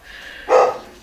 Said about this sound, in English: while the dog barks